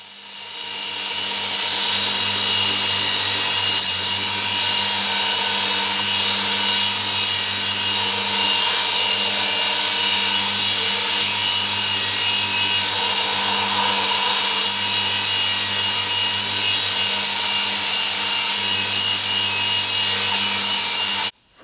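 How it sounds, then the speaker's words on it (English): A belt grinder with a coarse 60 grit belt rough-shaping a glued handle for a Damascus Japanese kitchen knife: a continuous motor hum with steady tonal whine, and abrasive rasping that swells and cuts out in repeated passes, up close with no talk. "After the gluing, I started rough shaping the handle. I'm starting with a 60 grit belt to do so."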